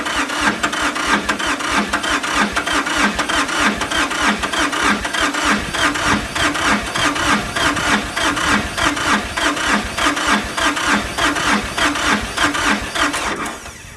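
An old tractor engine cranks over and over while trying to start with ether, a loud, close, rapid rhythmic chugging of the starter that pulses evenly for the whole stretch without catching.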